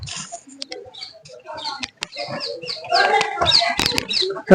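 Country chickens cluck and chirp close by in a busy, uneven chorus, with people's voices mixed in.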